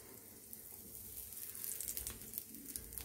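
Mustard seeds, urad dal, cumin and asafoetida frying in oil give a faint, soft sizzle with scattered tiny crackles and pops that grow slightly busier toward the end.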